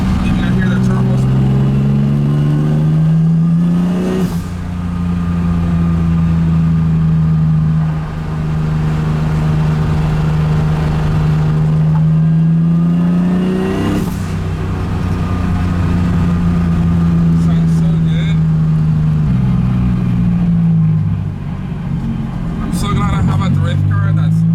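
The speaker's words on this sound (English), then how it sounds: "you can hear the turbos" A turbocharged drift car's engine drones steadily from inside the cabin, loud and constant, with brief rises in revs near the start and middle and turbo whine over the low rumble.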